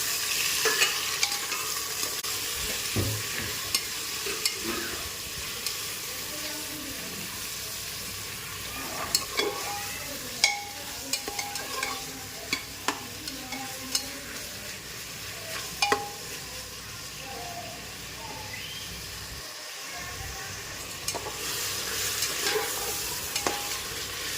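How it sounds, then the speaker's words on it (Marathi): Tomatoes sautéed and stirred in a pan of browned onions for chicken biryani, with a steady sizzle and scattered scraping clicks of the spoon throughout, fairly close and without speech. "टोमॅटो टाकून घ्यायचे टोमॅटो पण चांगलं परतून घ्यायचा"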